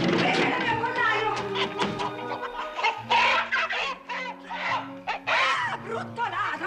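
Chickens in a henhouse squawk and cluck agitatedly in a noisy commotion, mixed with shouting voices.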